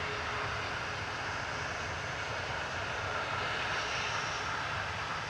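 An EasyJet airliner lifts off from the runway at Manchester Airport, its engine roar a constant, mid-distance broadband rush that swells slightly toward the end, with no talk.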